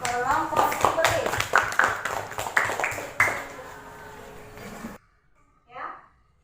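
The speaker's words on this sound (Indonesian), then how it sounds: "beri aplaus dulu untuk kelompok sembelit" A student group in a classroom gets a short burst of clapping from a small crowd, a quick run of uneven claps with voices mixed in, ending abruptly, followed by a brief spoken word.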